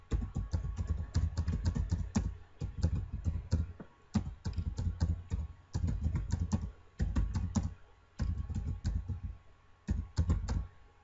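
Steady typing on a computer keyboard, dense bursts of close, crisp key clicks broken by short pauses, continuing throughout with no talking.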